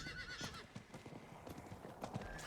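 A horse mount galloping in the video game Diablo 4, quick clip-clop hoofbeats with a whinny, fairly faint under game ambience, with no one speaking over it.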